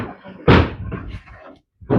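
A door in a workshop where large theatre scenery is being delivered slams shut with a heavy, close thud, followed by knocking and rattling, then a second loud bang after a brief silence.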